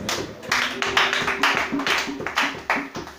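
A church congregation claps in unison to acclaim Jesus during a worship service, a steady rhythmic beat of loud, close claps running throughout with a faint sustained tone underneath.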